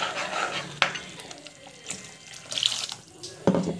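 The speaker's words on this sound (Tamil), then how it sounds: "ஸோ புளி கரைச்சி தண்ணி ஊற்றிக்கணும்." Tamarind water poured into a cooking pot, splashing and trickling in short bursts with a few clinks of utensils, close by and alone without talk.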